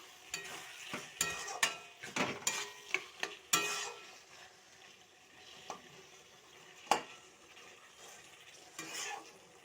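Fish oil curry stirred in a pan as salt is mixed in, with a burst of sharp scraping strokes at first, then a soft sizzle and occasional single knocks, all close and fairly quiet.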